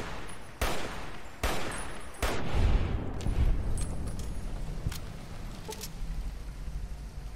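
Gunfire in Fallout: New Vegas, Lonesome Road DLC on hardcore mode: three sharp, loud shots at steady intervals, then a heavier burst with a booming low rumble, fading into scattered fainter cracks.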